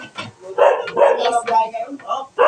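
A dog barks and yips in short close bursts over a few seconds, mixed with excited human voices talking.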